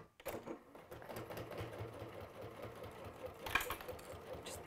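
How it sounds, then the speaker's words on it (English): A domestic sewing machine stitching a garment's back seam, a close continuous whirring hum with a rapid mechanical needle rhythm and a brief clunk near the end, no talking. "So I'll sew this back seam and then it'll be clear how it comes together."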